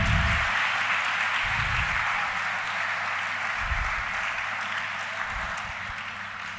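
Sustained audience applause at a college commerce department event, a dense, even wash of many hands clapping throughout, with low thumps underneath.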